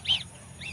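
A white goose gives two short honking calls, one loud near the start and a fainter one near the end, over a low background rumble.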